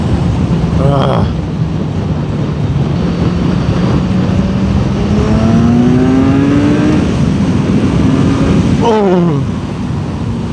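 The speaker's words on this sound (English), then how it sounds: "Now you feel the acceleration of the ZX." A 1000cc Kawasaki Ninja ZX motorcycle accelerates on a road in Bali, its engine note climbing steadily over several seconds through gear changes, loud and close under constant wind rush.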